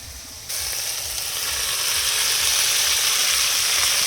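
Okra added to fried shrimp in a hot pan for a mustard okra dish: a loud, continuous hiss and sizzle swells right after the vegetables go in and holds steady, close and alone.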